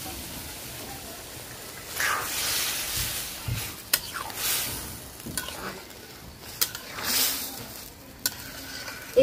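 Chicken moong dal tipped into hot tempering in a pan and stirred, a steady close sizzle with repeated sharp scraping strokes of the spoon riding over it.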